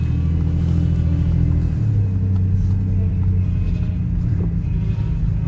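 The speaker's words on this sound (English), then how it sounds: "Yeah, wow. That is the power steering" A 2000 Ford Ranger idles with a steady low engine rumble and a persistent power steering whine that shifts pitch partway through, heard up close with no talk.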